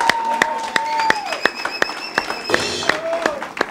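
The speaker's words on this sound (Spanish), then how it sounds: "¡Aplauso para ella!" A TV show audience claps along in a steady rhythmic beat, loud and close, while a voice talks over it and bright electronic tones ring out.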